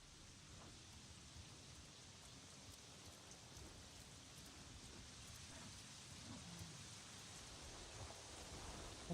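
Steady rainfall in the jungle world of the game Avatar Frontiers of Pandora, a constant soft wash of drops with faint low thunder rumbling underneath, even and quiet throughout.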